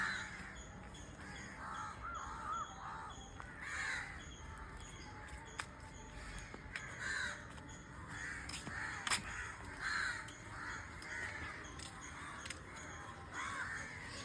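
Crows caw repeatedly in a house garden. Their harsh calls come in irregular bursts at a moderate distance over quiet outdoor background, with no speech.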